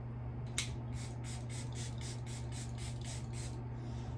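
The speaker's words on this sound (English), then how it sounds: "I know it may look like I'm spraying that a lot" A makeup setting spray bottle is pumped about ten times in a quick, even rhythm, each spritz a short hiss, close by over a low steady hum.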